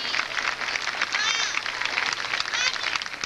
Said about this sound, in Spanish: Venga el aplauso para ellos.